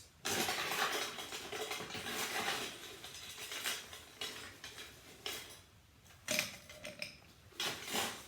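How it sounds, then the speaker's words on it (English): Ice cubes tumbling and clattering into a Boston mixing glass with a bar spoon already standing in it, a run of close, bright rattles and clinks that thin out into scattered knocks as the glass fills. "put the bar spoon in first, and then I'm going to fill her up with ice"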